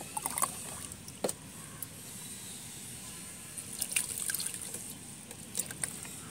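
Liquid cow-dung fertilizer mixed in water is poured onto a jasmine plant, giving a soft continuous splashing trickle with faint clinks, heard alone and quiet throughout.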